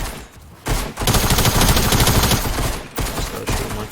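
Rapid gunfire rattles continuously as flying targets are shot in a video game, loud dense bursts filling most of the clip with a brief pause near the end before firing resumes.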